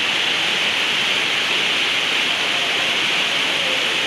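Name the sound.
heavy hail falling during a thunderstorm on an indoor sports arena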